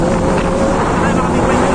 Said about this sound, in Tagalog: Ay, mga big bike yun!